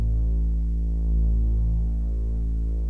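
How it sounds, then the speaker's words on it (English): A deep bass pad on the Vital synth with its drive knob turned up adds distortion, holding a thick, low, throbbing sustained tone with gritty harmonics and a slight swell in the middle, alone without speech. "You can hear some more intensity coming in with the drive knob."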